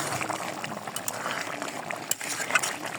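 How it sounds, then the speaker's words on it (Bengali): Chicken bhuna with fresh tomatoes comes to a boil in a pot, a close, moderate bubbling and popping with a few sharper pops, no one speaking. "দেখো মাংসটা বলক চলে আসছে।"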